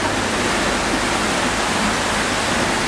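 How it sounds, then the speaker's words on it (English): Water sprays from a civil defence exhibit at Singapore's Civil Defence Heritage Gallery, a loud, steady rushing hiss that fills the short moment without any voices. "I think it's water again"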